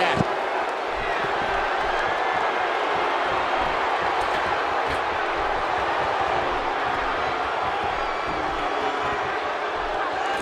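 A sold-out arena crowd roars continuously during a New Day versus Usos elimination tag match in WWE 2K16, a dense sustained cheering wash with faint thuds underneath.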